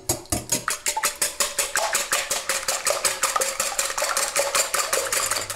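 Eggs seasoned with salt and pepper are beaten briskly in a bowl, producing a steady, fast, evenly spaced run of sharp whisking strokes close to the microphone.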